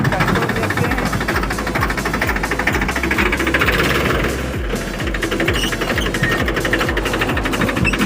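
A tractor engine running close by, a loud steady diesel chugging with a fast regular knocking rhythm throughout and a slight dip in intensity midway.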